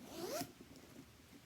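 A short zip on the top zipper of a Dooney and Bourke Florentine leather tote, one quick rising pull lasting under half a second, close and quiet.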